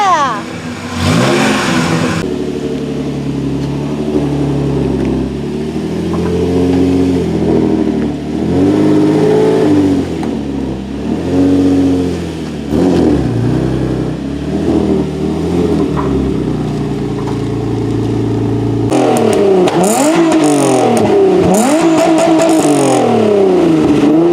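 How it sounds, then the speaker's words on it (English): A Nissan 350Z engine with test pipes and a Jones resonator revs up and down repeatedly with a loud exhaust rumble, rising and falling in pitch, while voices talk and cheer over it. "Exhaust sound check."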